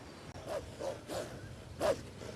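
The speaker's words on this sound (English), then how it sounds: "you see those hungry wolves stalking about in the grass?" Hungry wolves stalk through grass in the video game Black Desert, giving four short, sharp barking yelps spaced across a couple of seconds over a low ambient background.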